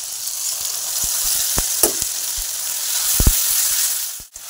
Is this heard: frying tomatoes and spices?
yes